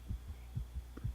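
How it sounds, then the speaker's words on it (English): Heavy game-style heartbeat pounds in slow paired thumps, low and muffled, repeating about three times in quick succession over a soft steady hum with no voices. "With my heart pounding in my ears, it takes a while to remember where I am"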